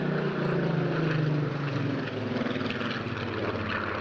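A Spitfire PR XIX with a 2,000 horsepower Griffon piston engine flies a display at the Eastbourne Airshow, its deep propeller drone loud and continuous, swelling and easing slightly as the aircraft passes.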